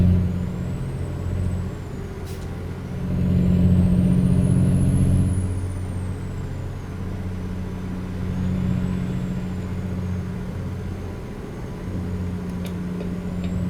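A virtual truck in American Truck Simulator idles and slows at a way station, its low engine drone rising and easing under a sharp hiss of air brakes, with faint whistling tones drifting overhead.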